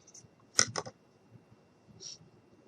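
Fabric is snipped with scissors while making a quiet-book page: a quick pair of crisp close cuts, then a fainter single snip after a pause, over near silence.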